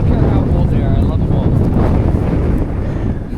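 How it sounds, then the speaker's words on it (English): Heavy wind buffets the microphone outdoors in Alberta with loud, low rumbling gusts, almost burying a voice talking underneath. "You can't hear me because it's windy"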